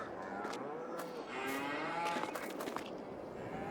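Cattle in the game Farming Simulator 22 on a dairy farm map give several drawn-out moos that overlap against a steady background hum, with no talking.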